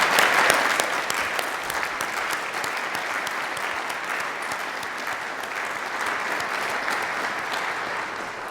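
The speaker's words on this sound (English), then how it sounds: "Another round of applause for the class of 2021." Sustained applause from a large commencement audience for the doctoral class of 2021, dense and even clapping that swells at the start and continues steadily throughout without a break.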